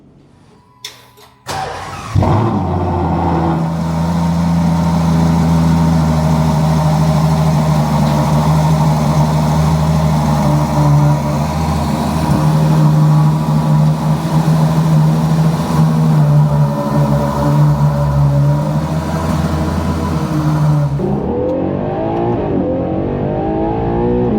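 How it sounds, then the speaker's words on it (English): A Ferrari Purosangue SUV's engine drones steadily and close while the car is driven, a sustained, even hum with strong low tones that shifts in pitch near the end, after a few brief knocks at the start. "Into my full day of driving the Purosangue today."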